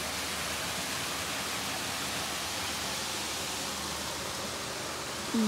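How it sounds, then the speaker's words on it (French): Small waterfall, the Cascade du Girou, rushing as a steady, dense broadband roar close by, continuous and unbroken for the whole stretch with no voices over it. "Voilà la petite cascade, ça y est, on est arrivé."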